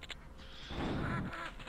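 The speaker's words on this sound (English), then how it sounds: "It's a duck! Don't kill a duck!" A duck quacks in the video game Killing Time, a brief burst of cartoonish quacking mixed with game noise and a busy low rumble, loudest in the middle of the clip.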